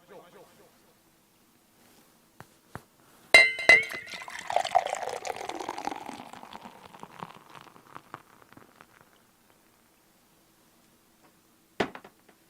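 Beer glugs and fizzes as it is poured into a glass at a small bar, starting with a sharp clink and a splashing rush that tapers into soft foaming, then quiet, with another brief knock near the end.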